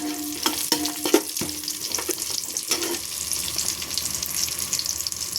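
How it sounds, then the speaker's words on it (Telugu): Dried dates and nuts frying in ghee in a pan, with a loud crackling sizzle and a quick burst of clattering spatula stirs early on, then a steadier hiss. "అన్నీ నెయ్యిలో ఫ్రై చేసుకుందాం"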